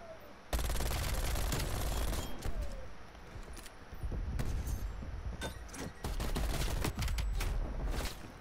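Rapid Type 63 rifle fire in the Call of Duty Cold War zombies game: dense, loud bursts of shots crackling over steady game noise, with short gaps between volleys.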